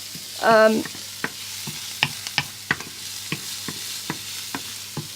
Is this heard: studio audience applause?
no